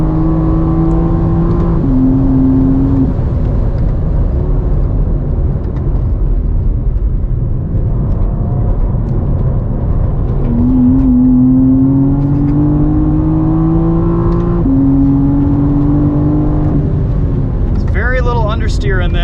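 A 2023 BMW M4 CSL engine on a race track climbs in pitch and holds against the rev limiter, with repeated rising sweeps and gear-change drops, heard from inside the cabin as people talk over the steady engine drone.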